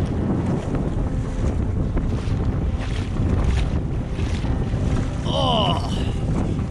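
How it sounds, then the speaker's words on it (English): Broad, continuous rushing of river water during a wade across a stream on Iceland's Laugavegur Trail, loud and close with heavy wind buffeting over the microphone. "The rushing water cometh and pushes me downstream."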